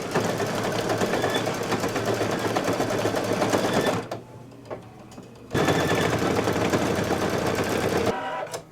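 An embroidery machine stitches fabric for a Santa table runner with a fast, loud, steady rattling hum, stops for about a second and a half, then resumes at full speed before cutting off near the end.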